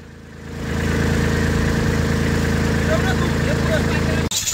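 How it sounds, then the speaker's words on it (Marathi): A tractor engine idles on a village cricket pitch, a loud, steady low rumble that swells up in the first second and holds, then cuts off abruptly near the end. "पिचो 22 मार्चचे ट्रॅक्टर घेऊन फिरत आहे"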